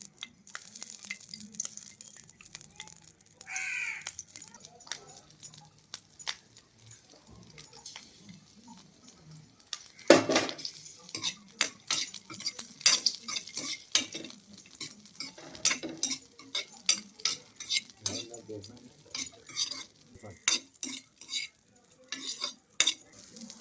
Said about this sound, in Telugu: ముందుగా పచ్చిమిరకాయలు వేపుకుంటున్నాను